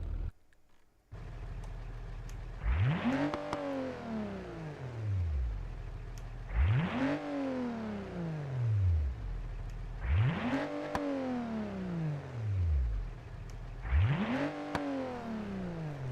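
Car engine swapped to a boxer B6 sound revving hard four times, each rising sweep climbing then falling back to idle, with steady idle between pulls and no talking.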